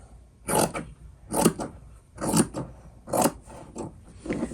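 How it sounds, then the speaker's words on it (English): Scissors cut through bandana fabric ends in several distinct, close snips, each a short crisp crunch followed by a pause, five cuts in an even rhythm with nothing else audible. "I'm going to cut the ends here because it's not even. And cut all the way down."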